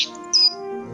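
A single short, high bird chirp sounds in the fantasy adventure game Book of Unwritten Tales 2, clear and close over a sustained tonal music chord.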